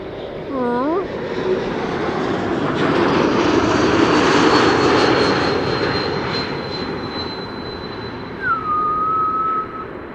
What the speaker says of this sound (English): E2 Embraer 195 over here, coming in from Edinburgh, KLM flight 924.